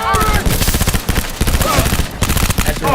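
Gunfire in the video game Cyberpunk 2077, loud, rapid automatic bursts in close, nearly continuous volleys with a few brief gaps. Voices are heard faintly in the background.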